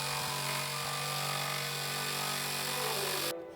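A power tool cuts a gingerbread man shape out of plywood for outdoor Christmas yard art, giving a steady, loud whine with rasping saw texture that runs continuously before stopping abruptly near the end.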